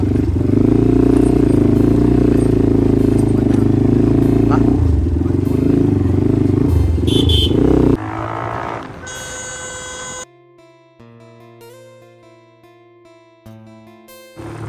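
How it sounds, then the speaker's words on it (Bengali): A GPX Demon motorcycle is ridden, its engine a loud, steady drone for the first half. The drone then drops away and gives way to music. "তো গাইস বাইকটা একটু রাইড করি"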